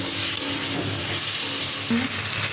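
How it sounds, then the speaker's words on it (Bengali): Fried potatoes and pointed gourd stir-fried with spices in a pan for a Bengali fish curry, a steady loud sizzle and hiss with occasional spatula scrapes, close up. "আলু পটলগুলোকে দিয়ে আর একটু ভালো করে কষিয়ে নিতে"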